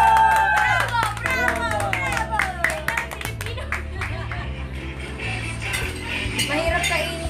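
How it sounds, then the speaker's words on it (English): Hands clapping at a Filipino street food stall, a burst of quick sharp claps over music, with voices and faint clinking of dishes and cutlery throughout. "Oh, let's clap our hands!"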